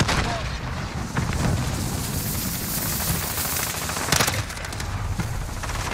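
Rapid SMG fire from an AMAX in a video game bomb match, a dense continuous chatter of shots with a brief louder burst partway through, mixed with game noise.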